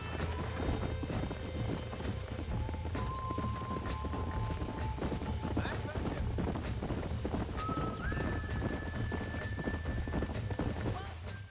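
Steady horse hooves clip-clopping at a walking pace in the video game Red Dead Redemption, with occasional whinnies and faint voices over a constant low ambient hum.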